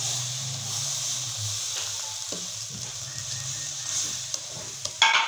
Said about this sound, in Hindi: ये दूध डाल देंगे हम।